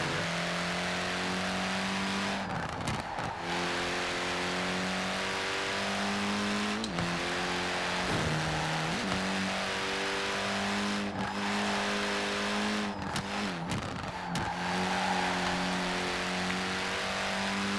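Sustained car engine drone from Forza Horizon 4 with a steady harmonic hum that dips and rises through gear shifts, loud and continuous with no talk.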